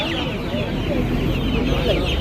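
Chickens clucking in a dense, busy cluster, close by, with a steady farmyard din throughout, on a poultry farm that also has guinea fowl, turkeys, ducks and Kadaknath chickens.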